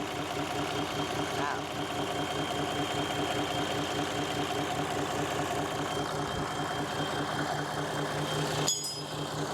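Mitsubishi 6M60 240 hp six-cylinder common-rail diesel engine idling up close with a steady, even low rumble and clatter throughout, and a brief metallic clink near the end.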